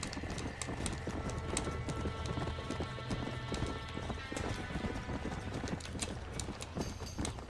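Rapid, continuous hoofbeats of several horses galloping out of a burning barn in Red Dead Redemption, with occasional whinnies and a busy, loud background of commotion throughout.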